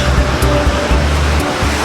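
Surf washing ashore on Bavaro Beach, a resort beach with a long swim area, heard as a steady, loud, broadband roar with low rumbling swells rising and falling throughout, no voices.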